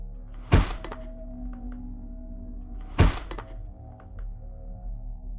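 Two heavy thumps land about two and a half seconds apart, each a loud dull bang through the ceiling from an apartment overhead, with a low steady hum underneath and faint clicks in between.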